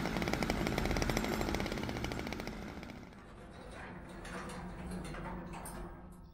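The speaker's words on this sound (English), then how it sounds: "Why does he have a chainsaw" Chainsaw roaring in the VR game Hospitality VR, a loud, buzzing motor with rapid pulsing that stays strong, then eases into a rougher, lower idle with clanking game sounds over it.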